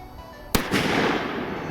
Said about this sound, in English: we got another Doom Boom rocket